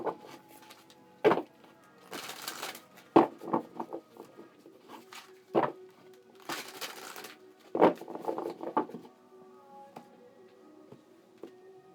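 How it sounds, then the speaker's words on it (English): Quick riffling bursts of cards being shuffled, several separate rapid flurries with soft taps and pauses between them, close and fairly quiet. "Alright, 2 more shuffles"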